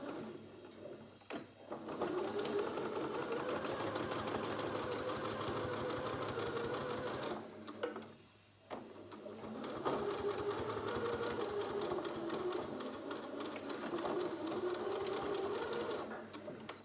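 A sewing machine stitches around the layered edges of a fabric face mask, running in two long steady bursts with a short pause between them, close and fairly loud.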